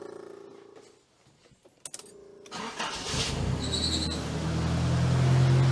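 A Nissan 200SX is cranked and fires up after a few quiet clicks, then settles into a steady idle that grows louder and rougher as it keeps running close by.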